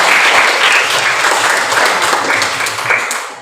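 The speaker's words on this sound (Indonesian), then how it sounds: "Tepuk tangan dulu untuk semuanya" A classroom of pupils applauding together after a lesson answer, loud, close and continuous clapping from many hands that fades a little toward the end.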